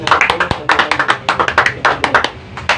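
A church congregation claps their hands at a testimony service, the sharp claps coming in quick, uneven bursts across the room.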